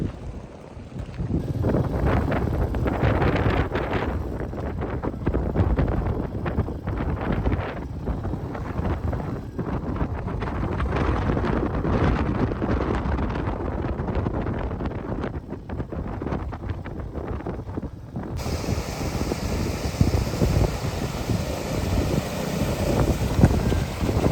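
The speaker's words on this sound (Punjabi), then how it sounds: "ਹਵਾ ਟਾਪ ਤੇ ਆ ਕੇ ਹਮੇਸ਼ਾ ਹੀ ਤੇਜ਼ ਹੋ ਜਾਂਦੀ ਹੈ" Strong wind on top of Shinkula Pass in the Himalayan mountains roars and buffets the microphone loudly and continuously, with a brief change in tone near the end.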